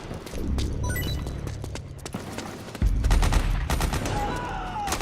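Bursts of rapid gunfire in Metal Gear Solid 4 mix with scattered single shots during suppressing fire, loud and dense in the battlefield soundscape, with no voices.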